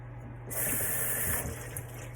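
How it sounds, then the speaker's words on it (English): Tap water runs into a pot being filled for canning broth: a steady hiss and splash that grows louder partway through and then settles, close by, over a faint low kitchen hum, with no talking. "I'm going to fill it up with the 3 quarts of water"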